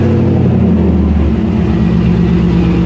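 The LS V8 swapped into a Mazda FD RX-7 runs loud and close, with a deep, throbbing rumble that rises briefly in a rev and then settles back to a rough, lumpy idle.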